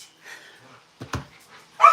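Dogs in a house bark in short sharp bursts, with soft whimpering and a high whine between them, close and fairly loud.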